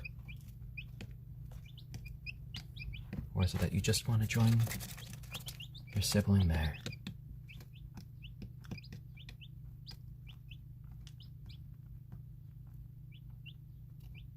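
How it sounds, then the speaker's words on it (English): Onagadori chicks, a Japanese chicken breed, peep in soft rapid chirps while eating, a faint steady scatter of calls throughout, with a person speaking briefly in the middle. "a onagadori chick, which is a breed of chicken from Japan"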